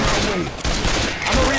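Rapid gunfire in a zombie shooter video game, a dense continuous volley of loud shots filling the moment.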